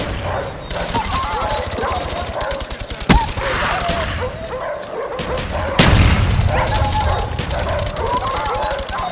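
Enemy attack dogs barking in Call of Duty Black Ops during a Demolition match: repeated yips and barks mixed with rapid machine-gun fire and two sharp shots, while game voices speak.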